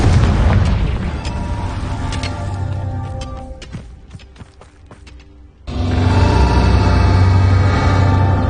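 A Confringo spell explosion in a Harry Potter video game hits as a loud boom that rolls and crackles, fades into a quieter stretch of sharp pops, then swells again into a dense, sustained roar of blast noise.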